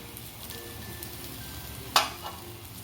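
A vegetable mix with potatoes and coriander stir-fries in a pan, a quiet steady sizzle with one sharp clatter of a spatula near the end, close and without talking.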